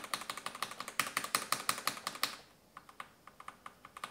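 Typing on a Tecware mechanical keyboard fitted with original Phantom switches, a quick run of crisp, close clacks that pauses briefly before lighter, sparser keystrokes resume.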